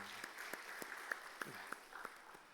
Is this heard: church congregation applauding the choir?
yes